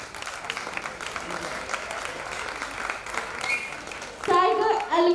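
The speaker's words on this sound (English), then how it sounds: "please welcome with a huge round of applause our second dance for the day" An audience at a school annual day gives a moderately loud, continuous round of applause, and children's voices and speech rise near the end.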